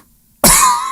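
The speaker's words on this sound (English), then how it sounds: "I cough." A single sharp, loud cough from a person bursts out after a short silence, then trails off.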